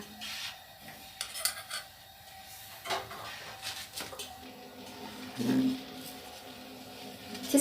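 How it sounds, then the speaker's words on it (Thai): A spoon rubbing and scraping steadily around a pot of pink milk jelly mixture made with red syrup and milk, with soft irregular strokes and an occasional light clink, close and quiet without talk. "เราจะคนไปเรื่อยๆ จนกว่าจะเดือด"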